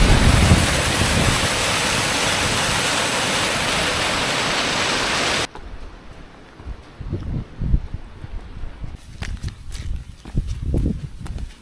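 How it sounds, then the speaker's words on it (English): A rushing waterfall at the top of a falls where a river pours in, loud steady broadband roar that cuts off abruptly midway, leaving quieter outdoor ambience with scattered thumps and footsteps. "This is the top of the waterfall,"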